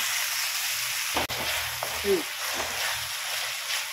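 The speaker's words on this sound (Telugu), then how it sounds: "ఈ పప్పు నూనెలో వేయించుకోవాలి. ఇట్లా ఈ విధంగా వేయించుకోవాలి." Moong dal fries in hot oil with a steady, close sizzle and crackle. A few clanks and stirring sounds cut through, and a voice talks faintly underneath.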